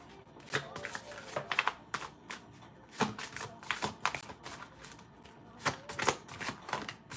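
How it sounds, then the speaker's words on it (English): Tarot cards are shuffled by hand in quick riffling bursts and soft slaps, close and fairly quiet, with short pauses between bursts. "Why the cards ain't coming out for y'all, though? Because I've been shuffling for like 10 minutes."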